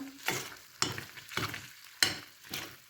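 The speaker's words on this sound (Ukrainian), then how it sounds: "і положимо шматочок вершкового масла" A lump of butter melts into hot oil in a frying pan, a close sizzle broken by five evenly spaced stirring strokes that scrape across the pan.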